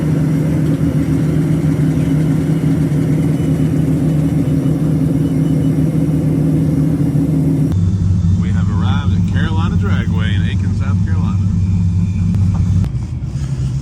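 A drag race car's engine idles with a loud, steady low rumble, then drops to a deeper idle note partway through while a person talks over it.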